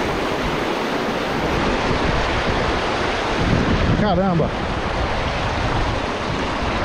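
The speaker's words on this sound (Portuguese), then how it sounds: "Corredeira da Laje." Rapids at Corredeira da Laje in the Serra do Tepequém, Amazon, as a steady broadband roar of rushing water, with wind buffeting the microphone and a brief spoken exclamation near the middle.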